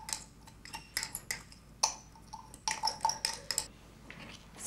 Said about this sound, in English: Stir the mixtures